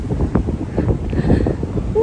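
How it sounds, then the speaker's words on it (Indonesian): Strong wind buffets the microphone in Tokyo with a continuous, roaring rumble that rises and falls in gusts, loud and close throughout. "Angin, kedengaran nggak kalian anginnya? Kenceng banget anginnya."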